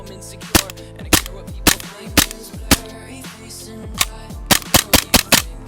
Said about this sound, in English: there's probably only a few shots left in the CO2, but I'll try to shoot at this thing here